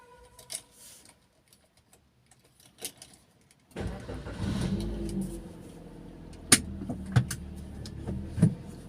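A car engine cranks and catches about halfway through after quiet ticking and small handling noises, then settles into a low idle with a few sharp clicks and knocks, close by at dusk.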